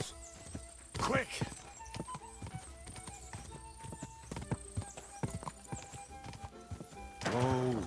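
Horse hooves clip-clop in an even walking rhythm through the Kingdom Come: Deliverance II game world, close and moderately loud, with a heavier thud of hoofbeats near the end and a voice speaking over part of it.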